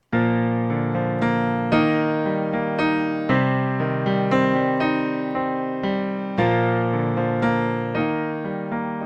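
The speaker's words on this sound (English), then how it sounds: "I am using the sustain pedal for every one of those measures." Piano left hand played with the sustain pedal in a flowing low-register pattern, each chord ringing on and blending into the next, with regular new attacks every second or so.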